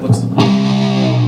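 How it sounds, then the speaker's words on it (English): Distorted electric guitar from a lesson: after two quick picked attacks, a string that starts bent sinks down into its original note and rings on as a loud sustained tone. "the string is actually bent going into the original note."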